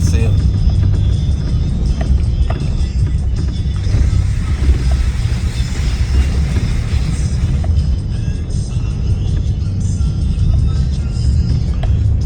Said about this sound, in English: I know I'm in a truck and got four-wheel drive